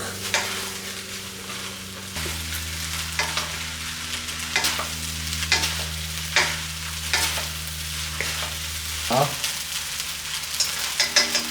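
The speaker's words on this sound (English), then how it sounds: "Toss the noodles in the sauce." Chow mein noodles tossed in soy sauce in a hot wok, with a steady sizzle under repeated sharp scraping and clattering strokes of stirring, close and loud.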